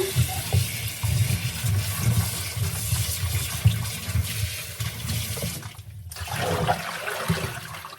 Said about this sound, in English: I'm just rinsing them. Just rinsing.